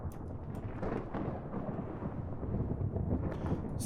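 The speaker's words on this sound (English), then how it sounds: "It's Thunderstorm." A thunderstorm rumbles in a modded tornado survival video game, a steady wash of low thunder and rain-like noise running unbroken for a few seconds with no voices.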